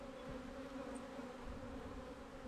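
A honeybee colony hums at the hive with a steady, dense drone that holds evenly throughout, close and fairly loud, with no voices.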